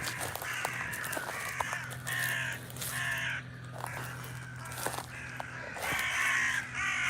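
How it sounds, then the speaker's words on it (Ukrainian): Several crows caw repeatedly in harsh bursts near an island on the water, some calls overlapping, over a steady low hum with no talking. "Тут в цьому місці багато ворон, щось вони нервничають"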